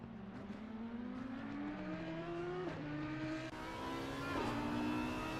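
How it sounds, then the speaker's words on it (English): An Audi R8 race car in a racing sim game accelerates out of La Source at Spa, its engine note climbing steadily through gears with brief shift dips, loud and close in onboard view. "We are jumping on board right now with the Audi R8."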